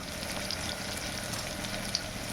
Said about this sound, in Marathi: कांद्याला तेलामध्ये फ्राय करून घ्यायचा. शेलो फ्राय मस्त लालसर झाला पाहिजे